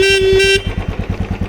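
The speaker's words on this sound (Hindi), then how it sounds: "हॉर्न का दिखा देता हूँ।" A Royal Enfield Bullet X motorcycle horn, faulty and going off when the clutch is pressed, gives one loud, steady honk close by, then cuts out to the bike's engine idling with a regular thumping beat.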